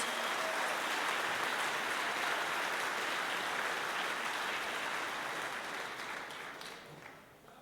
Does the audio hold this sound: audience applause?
yes